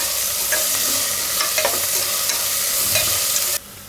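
Onions frying in a pan for momos rasa, a steady close sizzle broken by irregular scraping clicks of a spoon stirring, ending abruptly.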